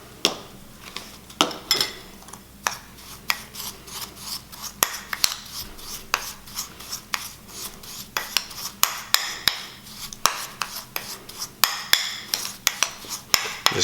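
A spoon or spatula scrapes and stirs a DIY lip scrub with lip-safe pink mica in a bowl, making rapid rhythmic rasping strokes with sharp clicks against the bowl, close and loud with no talking.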